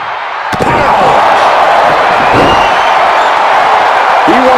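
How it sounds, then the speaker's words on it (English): A WWE 2K25 wrestling video game arena crowd roars and cheers loudly and continuously after a sharp slam near the start, with whoops rising through the noise and no commentary heard. "This crowd on their feet."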